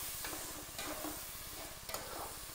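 Steady sizzling of tomatoes frying in a pan, with a few scraping stirs of a utensil, close and continuous with no talking.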